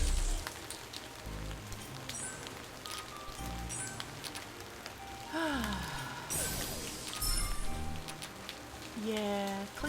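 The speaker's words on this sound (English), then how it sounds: "Yeah, clicky clack, rain noises." Game rain effects patter steadily beneath a relaxed voice during a Bejeweled 3 match, joined by occasional soft clicks and rising chime tones.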